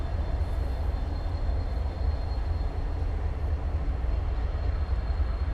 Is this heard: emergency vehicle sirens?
no